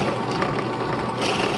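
A steady, close whirring grind of a drill with a 1.5-inch paddle bit boring through scrap wood, continuous and loud for the whole moment.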